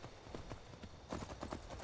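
Hooves clip-clop at an easy walking pace as a horse moves in Skyrim Special Edition, a run of soft, regular thuds that grows slightly louder near the end.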